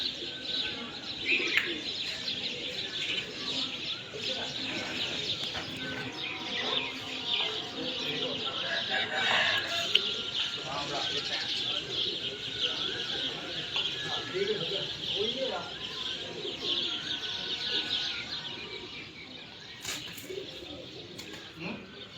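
Pigeons coo continuously in the open, their low rolling calls mixed with chirps from other birds and a moment of wing flapping, while people talk nearby.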